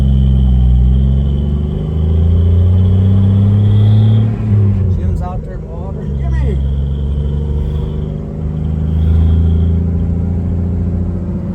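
A 1956 Chevy 210 runs on its first drive in 25 years, a steady low engine rumble that rises briefly mid-way and settles again. Voices talk over it throughout.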